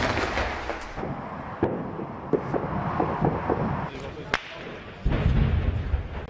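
Several sharp, distant bangs and thuds of gunfire and explosions break out irregularly over a steady rumble of background noise, from a security-force assault ending a siege of armed men.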